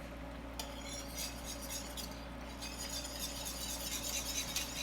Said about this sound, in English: I'm gonna whisk it in really good